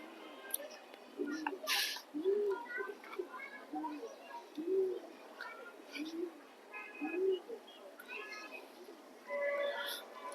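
A pigeon coos several times in a repeated low rolling pattern, nearby, with someone talking over it throughout.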